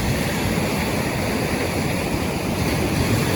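Black Sea waves wash onto a beach at Chornomorsk, heard as a continuous loud, close roar of surf with wind buffeting the microphone and no distinct individual breaks.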